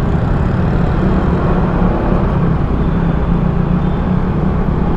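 Dense city road traffic in Manila and Quezon City, heard from a motorcycle lane: a constant low roar of engines and tires with no clear individual events.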